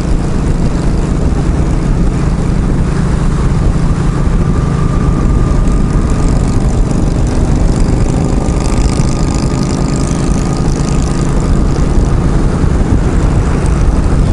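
A motorcycle engine drones steadily while the bike is ridden, with a constant, loud roar mixed with rushing wind noise throughout.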